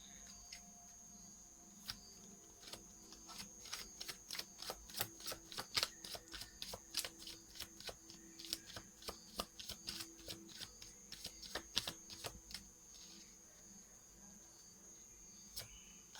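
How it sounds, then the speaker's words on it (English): Tarot cards are shuffled close up, with dense bursts of crisp riffling clicks through the middle that thin out toward the end. A faint high insect-like whine runs steadily underneath, and no one speaks. "I feel like pulling another card here."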